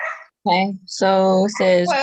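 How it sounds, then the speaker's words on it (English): A dog barks and yelps close by in several sharp, rapid bursts over a person talking. "Sorry about the dog going crazy."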